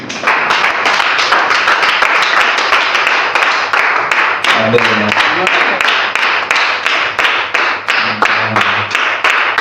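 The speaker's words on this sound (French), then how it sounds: "Est-ce qu'on peut applaudir le Seigneur?" A church congregation applauds steadily, a dense run of rhythmic clapping that stays loud throughout, with a few voices calling out briefly underneath.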